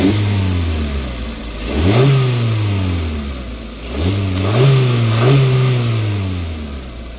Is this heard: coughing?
no